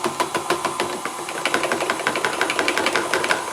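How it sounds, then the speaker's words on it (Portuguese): An electric stand mixer beats pineapple cake batter at its lowest speed, giving a close, steady motor hum with quick rhythmic knocking and clattering throughout, and no voices. "Essa minha batedeira tem essa função, mas existem batedeiras que a velocidade 1 já é muito rápida."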